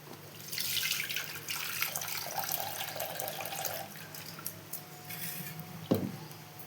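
Water splashes and trickles as husked black gram dal is rinsed in a vessel, a steady wet sloshing with a brief sharper clunk near the end and no talking.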